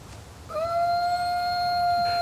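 A gray wolf in Yellowstone grassland gives a single long, steady howl that starts after a quiet moment and holds at a loud, clear, even pitch to the end.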